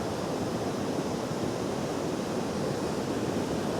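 A debris flow torrent rushes at Saint-Julien-Montdenis as the water level rises, making a dense, unbroken roar of churning water that stays loud and steady throughout.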